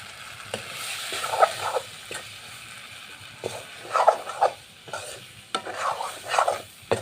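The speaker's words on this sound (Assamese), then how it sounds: "বিলাহীখিনি আধা সিজিছে, এতিয়া পূৰা সিজিব লাগিব" Tomatoes cooking in a pan with a soft sizzle, stirred by a spoon in repeated scraping strokes and light clinks against the metal, close and moderately quiet, with no talking.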